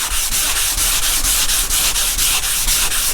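Car bodywork wet-sanded by hand before paint, with about ten quick, even back-and-forth rubbing strokes, loud and close, and no voices.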